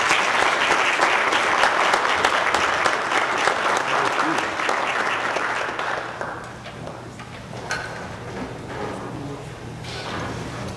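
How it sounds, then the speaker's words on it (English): School board meeting audience gives school principals a dense round of applause that stays loud for about six seconds, then thins to scattered claps and room noise. "can we give our principals a round of applause as they come forward?"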